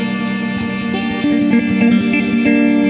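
Guitar intro played through a full-wet reverb, sustained chords blooming into a thick, washing tail with a steady, loud, droning sound and no talking.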